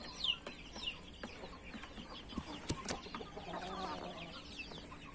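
A backyard poultry flock clucks softly in scattered, irregular bursts, with a few sharper calls and pecking sounds, faint and close, with no talking.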